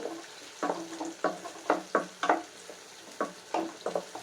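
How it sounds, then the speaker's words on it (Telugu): Onions deep-fry in a pan of oil for prawn biryani, a steady sizzle broken by repeated rhythmic scrapes and stirs of a utensil, fairly faint and close, with no talk. "సో చూసారు కదా నీట్గా వేగుతున్నాయి"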